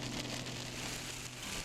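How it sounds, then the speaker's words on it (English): Rain falls steadily during a thunderstorm in the Everglades, a faint, continuous hiss of drops on surfaces with no other sounds standing out. "the thunderstorms and rain started to come down"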